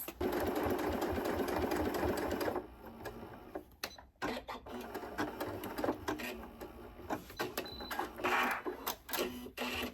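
A computerized sewing machine stitches a tote bag with a loud, steady whirring rattle at first, then stops and restarts in shorter bursts, with someone speaking nearby.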